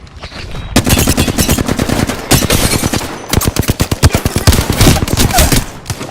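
Rapid automatic gunfire in the video game Apex Legends, loud bursts of fast repeated shots with brief pauses between volleys, close and dominant throughout.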